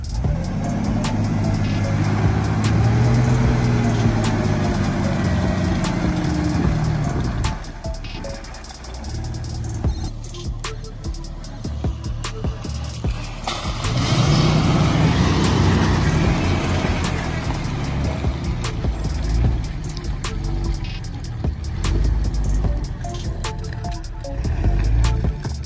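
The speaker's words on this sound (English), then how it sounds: "Give us some gas, Tyler." A Jeep's engine revs hard and loud while the vehicle is stuck in a muddy rut on an off-road trail. The roar rises and falls in pitch, eases briefly midway, then climbs again.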